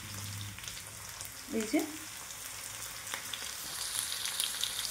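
Garlic paste hitting a hot pan of browned ingredients for beetroot chicken, a soft sizzle and brief stirring rustle, fairly quiet, with a short spoken phrase near the start.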